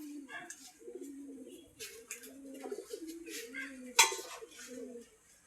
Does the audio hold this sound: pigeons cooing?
yes